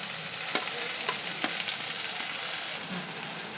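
Tomatoes frying in a pan with curry leaves and ginger-garlic paste, stirred now and then; a steady close sizzle with a few sharp scrape clicks of the spoon, no talking.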